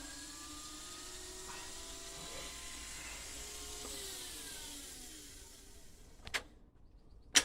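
A Technics RS-1500 reel-to-reel tape deck rewinding on a bench, giving a steady whirring hiss with faint rising tones for about six seconds, then clunking to a stop with two sharp mechanical clicks.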